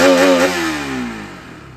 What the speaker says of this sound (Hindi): एक बार साउंड सुनाओ अपनी RS की स्टार्ट करके ना